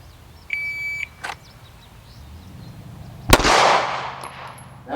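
Pistol shots from draw drills at about 5 yards, a sharp crack near the start and a single loud report later with a long ringing tail, plus a faint electronic timer beep.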